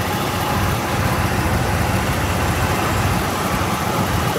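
A 1955 Chevrolet car engine runs at a steady, close, loud idle-like drone, a continuous low rumble with no talk.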